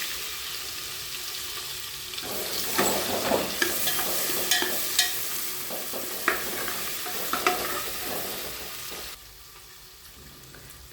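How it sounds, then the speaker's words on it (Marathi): Spices crackle and sizzle in hot oil while a spoon stirs and scrapes the pan in quick bursts; the frying fades to a quieter hiss near the end. "खाली तेल मसाले भाजून घेऊयात"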